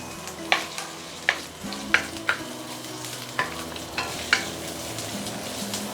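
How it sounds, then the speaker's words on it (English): Spring onion whites and ginger sauté in a pan with a soft, steady sizzle, punctuated by about eight sharp clinks and scrapes of a utensil stirring against the pan, close and without talk. "You just have to saute for about a minute, maybe a minute, just to allow all the fragrance and flavor to release."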